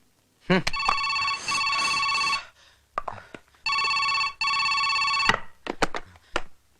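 A telephone bell rings in two long, steady bursts separated by a short pause, loud and close, with brief clicks and faint voices around the rings in a Telugu film scene.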